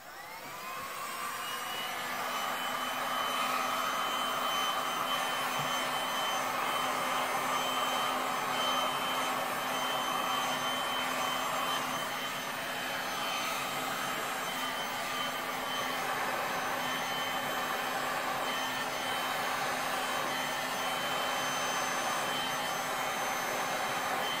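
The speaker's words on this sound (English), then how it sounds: "Plug your ears for the heat gun." A heat gun blows a loud, steady, whining rush of hot air over quick coat epoxy on an ocean-themed deck table, running continuously for the whole stretch with no voices.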